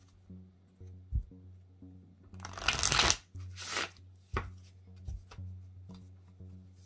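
Tarot cards being shuffled close by: two long riffling bursts in the middle, surrounded by lighter taps and flicks of cards being squared and handled.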